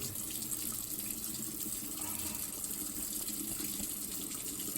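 Water runs steadily from a kitchen tap during hand washing, a constant close hiss and splash with no breaks and no talk.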